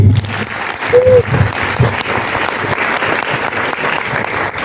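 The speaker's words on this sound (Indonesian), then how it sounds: "Aplaus sekali lagi." An audience at a public university lecture claps in sustained, dense applause that fills the room for several seconds, with a brief tone and some voices mixed in.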